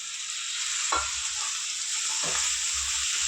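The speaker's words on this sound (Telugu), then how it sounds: "రొయ్యలు వేసుకొని ఒకసారి ఇట్లా కట్ చేసుకొని ఒక 2 నిమిషాలు కలుపుకుంటూ ఫ్రై చేసుకున్నామండి" Prawns fry with fenugreek leaves in a hot pan, giving a loud, constant sizzle broken by two scraping strokes of a spoon stirring them up close.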